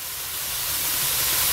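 Bacon (200 g) hitting a hot Petromax ft6 Dutch oven for goulash gives a loud, steady sizzling hiss that swells slightly and stays even throughout, with no talking.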